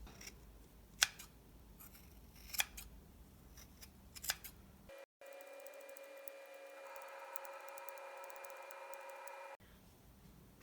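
Scissors trimming a yarn pom-pom, three crisp snips close to the microphone, followed by a steady hum after a brief cut.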